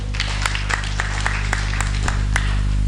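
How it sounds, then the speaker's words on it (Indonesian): Scattered, evenly spaced claps from an audience at a community gathering, fairly faint and set against a loud, constant electrical hum. "Tepuk tangan untuk beliau."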